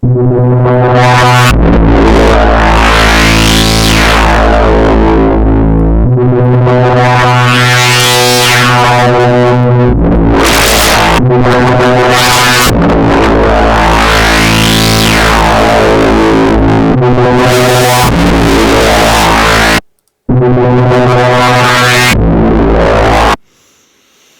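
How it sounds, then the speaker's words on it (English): A loud, sustained synthesizer tone with heavy distortion, its pitch sweeping up and down in repeated phrases, briefly cutting out near the end. "Start adding distortion."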